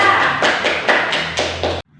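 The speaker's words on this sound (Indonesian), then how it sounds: "Tepuk tangan untuk kelompok 2" Students in an Indonesian primary classroom clap together for a group that answered well, a short burst of loud, close hand claps that stops abruptly.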